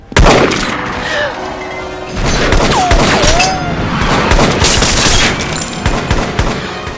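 Rapid bursts of gunfire crackle loudly and repeatedly, layered with a voice and other action noise from an action film.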